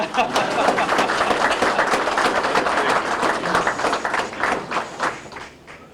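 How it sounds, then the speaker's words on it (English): A packed banquet hall at a fire district installation dinner breaks into a steady, dense round of applause, many hands clapping continuously and loudly for several seconds before tapering slightly at the end. "Round of applause now."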